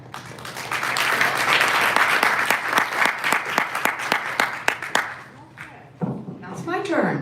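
Audience at an Illinois state comptroller candidate forum claps in a loud burst of applause that thins into scattered claps, then a voice speaks over the last moments.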